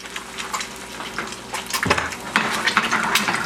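Eggs cooking in a pan and being moved around with a spatula, giving a steady soft sizzle with light scraping and clinks, close up and without any voices.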